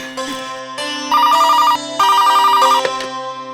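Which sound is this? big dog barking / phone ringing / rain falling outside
phone ringing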